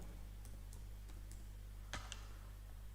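Quiet keystrokes on a computer keyboard as a job title is typed, a handful of light scattered clicks over a steady low electrical hum.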